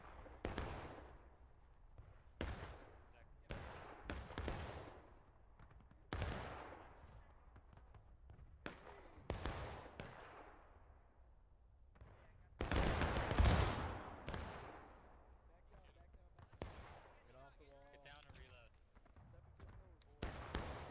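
Musket volleys in the Civil War game War of Rights, fired at a stone wall: repeated sharp cracks, some loud and near, others farther off, come at an irregular rhythm, with one heavy blast in the middle and a voice speaking between shots.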